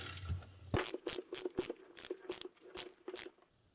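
A long-handled ratchet turns a bolt during swing arm bushing work, giving a quick run of sharp, close clicks in uneven bursts against a quiet background.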